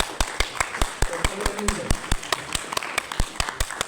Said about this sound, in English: Let's clap our hands for gymnastics.